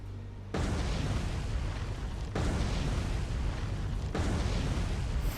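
Torpedo hits exploding against a ship in the naval game War on the Sea: three heavy, sustained booming blasts in a row, each a loud broadband roar that rolls straight into the next without any gap.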